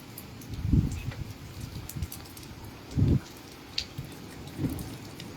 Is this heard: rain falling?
yes